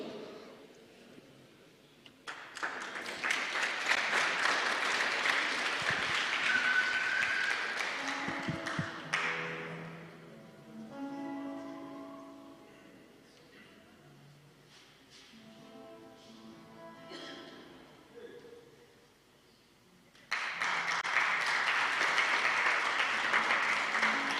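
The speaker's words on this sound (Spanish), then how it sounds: "Vamos a recibir con un fuerte aplauso" A church congregation at a Sunday service in Aymara claps in two bursts of dense applause, separated by a quieter stretch with faint tones and taps before the clapping resumes.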